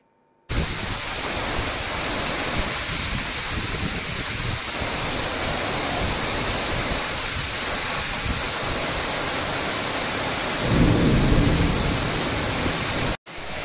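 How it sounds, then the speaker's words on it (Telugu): Heavy rain pours down over coastal Andhra Pradesh and Tamil Nadu, a loud steady hiss of downpour with a deeper rumbling swell near the end, like thunder, and no voices. "భారీ వర్షాల కారణంగా ఏపీ తీర ప్రాంతంతో పాటు దక్షిణ కోస్తా జిల్లాలతో పాటు తమిళనాడు అంతటా కూడా భారీ వర్షాలు కురుస్తున్నాయి."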